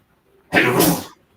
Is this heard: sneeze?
yes